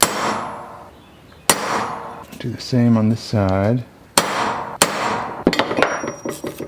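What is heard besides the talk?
hammering a center punch into metal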